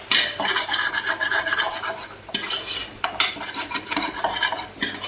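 Ginger garlic paste is stirred and fried in a pan on low heat. A spoon scrapes and rubs continuously against the metal over a soft sizzle, with the strokes following a steady rhythm close to the pan.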